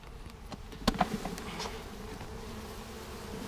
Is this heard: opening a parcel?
no